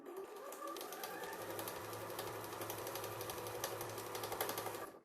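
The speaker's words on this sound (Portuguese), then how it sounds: "Eu vou costurar de novo e depois eu desmancho o que deu a mais." A sewing machine restitches a patchwork seam, running as a steady, fast mechanical whir of stitching with no talk, then stops abruptly at the end.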